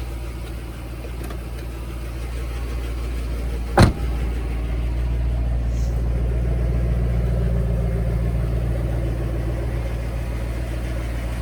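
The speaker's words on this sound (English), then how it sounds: "But actually, the car sounds really good." A 2010 Ford Mustang GT idles with a steady low rumble, close and continuous, and a single sharp click sounds near the four-second mark.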